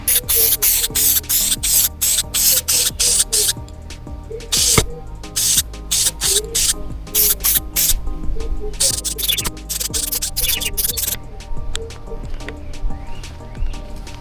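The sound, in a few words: spray painting wiper motor with satin black paint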